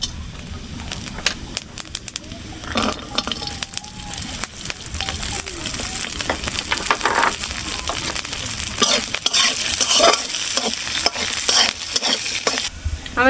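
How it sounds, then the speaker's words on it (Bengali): Cumin seeds and garlic frying in hot oil in a pan during a tilapia and raw banana dish, a steady loud sizzle with repeated scraping stirs and clinks, growing busier toward the end, with no talk. "আমি জিরে আর রসুনগুলো ভেজে নেব।"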